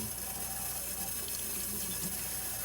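Tap water runs steadily into a sink for making soapy dishwashing water, a continuous close rushing and splashing with no talking.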